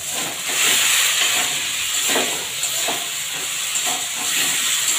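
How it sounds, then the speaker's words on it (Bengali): Spices sautéing in hot oil for a hilsa fish curry, a steady close hissing sizzle that runs throughout with small crackling bursts, no talk over it. "একটু ভালো করে কষিয়ে নেব।"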